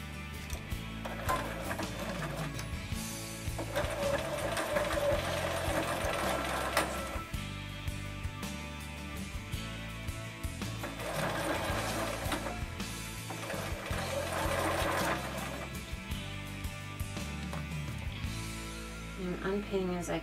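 A sewing machine stitches netting on a girl's dress in bursts of rapid mechanical stitching, starting and stopping several times, with quieter pauses between runs.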